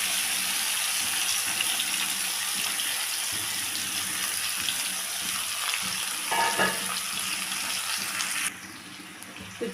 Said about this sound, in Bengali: তো চিকেনটাকে আমি এখন আমার গ্যাসের ফ্লেমটাকে একটু হাই করে দিয়ে আমি একটু ভেজে নেব